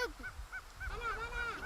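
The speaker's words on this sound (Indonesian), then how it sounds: "ini adalah jenis burung Maleo Maluku, salah satu jenis burung asli pulau ini" Moluccan megapode (Maleo Maluku), a bird native to Halmahera, gives short honking, goose-like calls in quick succession, fairly close and clear against faint outdoor background.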